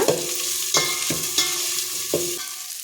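Baby corn frying in a pan for veg noodles, a soft sizzle running underneath as a spatula scrapes and knocks against the pan in several distinct strokes, close up and with no talk.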